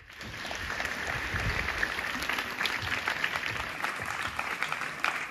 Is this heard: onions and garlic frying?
no